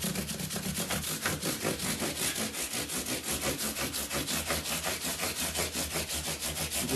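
Fret wires on a left-handed Fender Jazz Bass are scrubbed with an abrasive pad to strip corrosion, a quiet, rapid back-and-forth rasping in an even rhythm, close up and alone.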